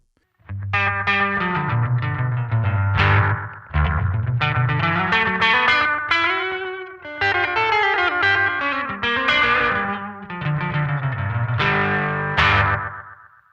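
Distorted electric guitar through an Aqua Puss analog delay at a fast delay time, four phrases of picked notes with bright, quick repeats trailing each line, loud and unaccompanied.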